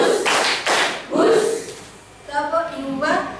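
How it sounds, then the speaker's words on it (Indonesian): Rhythmic hand claps from a group in a classroom clapping game, short sharp bursts in quick succession mixed with voices chanting and talking over them. "tepuk tangan untuk kita semua"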